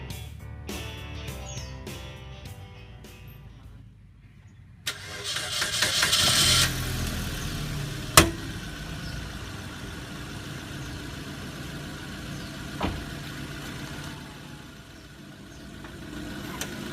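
A 2013 Suzuki Splash facelift car engine cranks and catches midway, then settles into a steady, close idle with a single sharp click a few seconds later.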